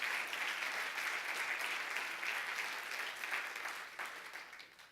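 A church congregation applauds, a dense, even wash of many hands clapping together, steady and fairly distant before tapering off at the end.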